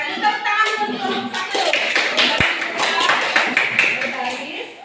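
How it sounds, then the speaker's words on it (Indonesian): A classroom group applauds, brisk hand clapping from several people close by with children's voices and chatter mixed in underneath, fairly loud and continuous. "Silakan tepuk tangan untuk kelompok"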